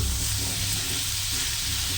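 Steady, continuous sizzling of food frying in a hot pan, a dense crackling hiss throughout with no voices.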